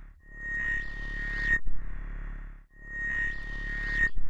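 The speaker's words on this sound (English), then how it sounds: "I wonder why the goggles are making this weird noise here" Thermal scanner goggles in the adventure game Dark Fall give off a strange sonar-like electronic tone with a bright whistle, pulsing in two long cycles with a low hum beneath, no talk.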